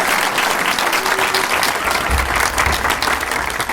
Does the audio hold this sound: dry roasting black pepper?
no